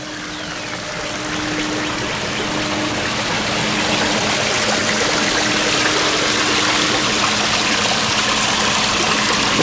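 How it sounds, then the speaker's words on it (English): A pumped garden waterfall in Wisconsin rushes steadily and loudly, a constant close splashing flow with a faint pump hum and no talking. "It's nice to hear water, though, isn't it? It's a nice water feature."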